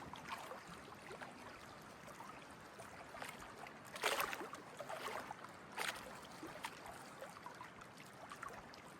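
Gentle water laps softly at the edge of North Pond in the wilderness, a quiet, irregular trickle and slosh with a few slightly stronger splashes, faint and close with no voices.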